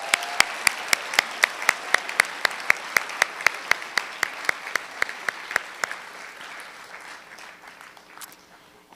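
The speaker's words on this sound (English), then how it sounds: "let's give a round of applause for everyone who's received awards so far" Applause from a convocation audience honouring award recipients, sustained clapping with a steady run of sharp individual claps near the front, gradually thinning out toward the end.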